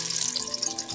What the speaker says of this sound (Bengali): তেল গরম হয়ে গেছে, এখন দিয়ে দিব মাছ।